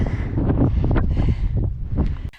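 Strong gusts of wind buffet the microphone in loud, uneven bursts on a trail in Lanzarote, rumbling and roaring throughout.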